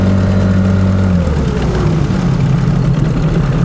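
Two 9.8 hp outboard boat motors, a Tohatsu and a Stels, race side by side, their loud droning engine tones sliding downward as they run close and steady with no talk.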